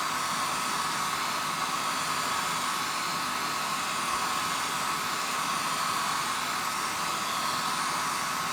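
A hair dryer blows steadily on glue coating a decoupage stone, a constant close, loud whoosh with a faint whine that runs unchanged throughout, without any talking.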